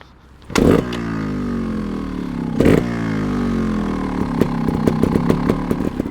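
A 2021 GAS GAS 300 TXT Racing trials motorcycle's two-stroke engine idles steadily, then is blipped with two sharp, loud revs near the start and middle before settling into a throaty idle with quick small throttle stabs.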